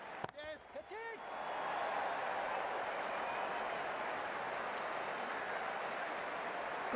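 Crowd at a cricket match between the Grand Junction Dragons and Brooklyn Beats, a steady wash of applause and cheering that swells after a brief clap and a few faint calls at the start, holding loud and broad to the end.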